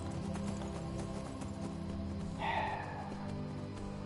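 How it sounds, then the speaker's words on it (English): Hooves of a galloping horse in the video game Skyrim beat in a steady, faint rhythm, with a brief whinny near the middle. "Run, you damn horse!"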